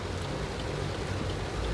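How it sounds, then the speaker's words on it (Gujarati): Heavy rain pours down in a village area, a dense, unbroken wash of noise for a couple of seconds with no one speaking. "અવાજ તો તમને સંભળાતો જ હશે વરસાદનો"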